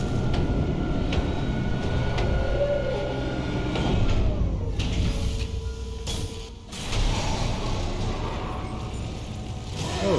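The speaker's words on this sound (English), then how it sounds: "Replacing damaged tram car." A heavy mechanical rumble of a tram car rolling along in the video game Dead Space Remake, with clanks and metallic shifts, steady and fairly loud, no talking.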